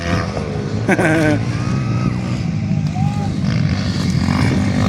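Motocross motorcycles race on a dirt track with engines roaring loudly and continuously. Revving pitch sweeps rise and fall as the bikes pass, and an excited commentator talks over the engines throughout.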